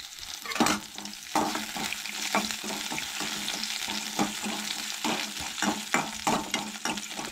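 Ginger sautéing in a pan of hot oil for a Goan stuffed brinjal curry: a steady close sizzle broken by repeated scraping stirs throughout.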